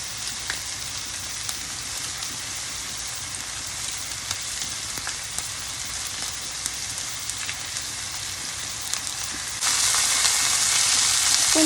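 Fresh garden green onions sizzling in a pan alongside a ribeye steak, a continuous crackling fry with light popping that swells noticeably louder near the end, no speech.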